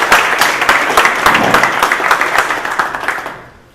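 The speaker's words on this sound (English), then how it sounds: "So applause for Paweł." An audience at a tech talk on big data gives a speaker a round of applause, loud, close clapping with distinct hand claps that carries steadily and then fades away near the end.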